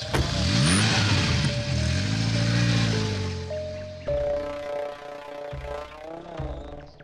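A car engine revs and the car pulls away, loud and close, its pitch rising and shifting as it accelerates, then easing off.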